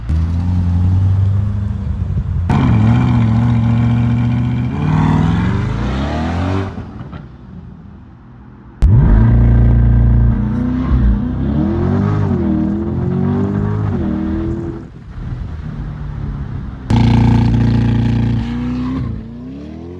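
Corvette C8 2026 engine revving hard during launch-control runs, loud close bursts of acceleration with rising gear pitch, separated by brief drops and pauses, each burst cutting in sharply.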